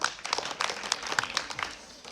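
A school audience at a government school quiz competition in Bihar claps after a correct answer, a scattered, moderately loud patter of hands lasting a couple of seconds with no talk.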